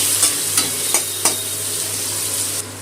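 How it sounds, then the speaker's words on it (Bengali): A large chopped onion fries in oil for a prawn and snake gourd dish. A close, steady sizzle runs throughout, with a few crisp stirring knocks early on, and the frying softens slightly at the end, with no voices. "পেঁয়াজটা একটু তেলের মধ্যে ভেজে নেবো"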